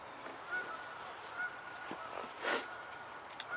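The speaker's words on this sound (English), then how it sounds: "We're looking at Canada geese right now" Canada geese honk outdoors on a wildlife walk, with a few faint, scattered honks rising over steady ambient noise, distant rather than close.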